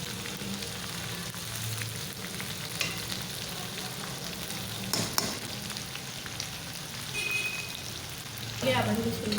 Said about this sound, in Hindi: हमारे कलेजी के पकौड़े तैयार हो रहे हैं।